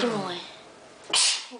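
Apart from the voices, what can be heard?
child sneezing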